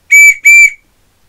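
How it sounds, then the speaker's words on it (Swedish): Two loud, sharp whistle blasts used as a sound signal, each about a third of a second, in quick succession, then silence. "ljudsignaler. Man kan ha vissla."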